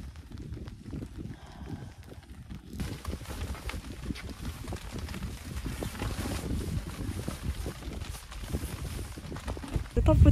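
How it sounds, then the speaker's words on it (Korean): Rain falls with light wind on a mountaintop during a solo backpacking trip, a steady broadband patter and rush over a makeshift tarp that begins softly and then swells and holds, continuous and close. "이제 비 오고 바람 이렇게 조금씩 부니까 엄청 선선하고"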